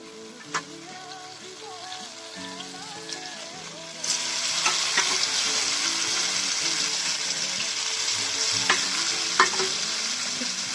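Leafy greens added to a pan of fried tomatoes hit hot oil with a sudden loud sizzle that holds steady, with occasional scrapes and clacks of stirring and soft music in the background.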